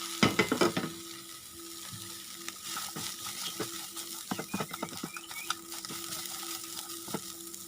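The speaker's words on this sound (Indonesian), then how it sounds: "Kemudian masukkan wortel yang telah dipotong-potong tadi. Aduk-aduk hingga merata." Chopped carrots are stir-fried in a pan, a soft frying sizzle under repeated clacks and scrapes of the utensil, busiest at the start and then irregular, fairly quiet and close.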